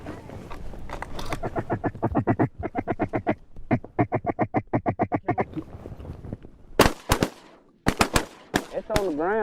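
Ducks quack in rapid rhythmic runs during a duck hunt, loud and close, repeated in several bursts, followed by sharp shotgun blasts at the end.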